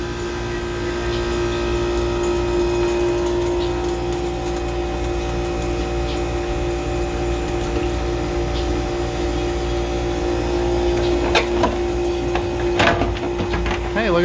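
An ice machine runs after its pump inlet was cleaned, a loud, steady motorized drone with a strong tonal hum, near and continuous, with a few clicks and rattles toward the end.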